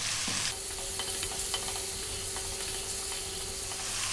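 Two cups of onion sizzle steadily in a pan over above-medium heat, a continuous close frying hiss with faint crackles and light stirring clicks throughout, no voices.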